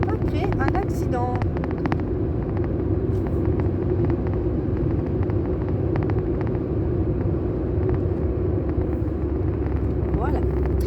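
Steady low road rumble of a car driving along, with wind noise, constant throughout and under a driver's speech.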